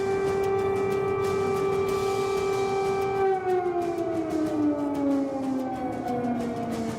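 A loud, steady air raid siren in Ukraine during the Russian invasion, wailing on a sustained tone, then slowly winding down in pitch.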